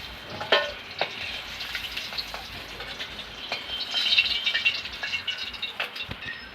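Pieces of catla fish fry in oil in a wok, giving a continuous crackling sizzle with sharp pops and spatters that swell midway, close by and with no talking.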